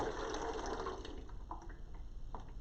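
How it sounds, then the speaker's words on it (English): Hydrogen peroxide poured into a container, a soft continuous liquid pour and trickle that fades toward a few faint splashes, quiet and close with no talking. "I'm going to take our hydrogen peroxide, I'm going to pour it into our container"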